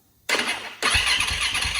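A 450 dirt bike engine cranks with a short burst, catches after a brief pause and settles into a loud, steady running rumble close to the microphone.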